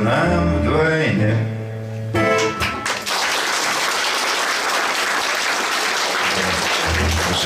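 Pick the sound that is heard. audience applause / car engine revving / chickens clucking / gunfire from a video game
audience applause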